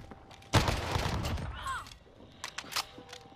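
Gunfire in the Warzone Rebirth video game: a sharp, loud shot burst rings out briefly, followed by fainter crackling and a few softer pops over a steady background.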